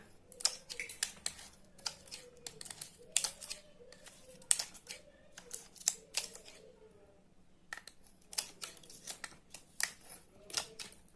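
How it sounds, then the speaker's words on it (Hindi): Scissors cut paper closely and neatly, giving a series of crisp, close snips in irregular bursts with short pauses between them, alone without talk. "इस तरह आपको सब पेपर पास से काट देना है।"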